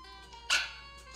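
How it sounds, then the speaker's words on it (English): A single short dog bark sounds at close range in an indoor home setting, a brief sharp burst standing alone over quiet background. "You barked all through dinner."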